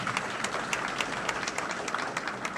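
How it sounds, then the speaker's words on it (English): A large audience at a university ceremony honouring families and parents claps steadily in a dense, even wash of applause, with no voices over it. "have a large applause for your family and your children"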